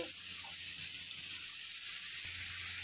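Tomatoes drop into hot oil with cumin, whole spices, bay leaf and onion for a paneer dish and set off a steady, bright sizzle that hisses continuously at close range, with faint stirring bumps beneath.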